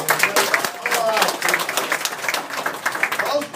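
Open-mic comedy club audience clapping in a brief burst of scattered applause at moderate volume, with rapid uneven hand claps filling the room.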